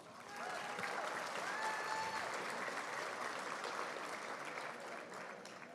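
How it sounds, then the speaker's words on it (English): A large audience at a realtors' inaugural night gala claps together in sustained, even applause that swells, holds steadily and gently tapers off, with a few faint voices mixed in. "another round of applause."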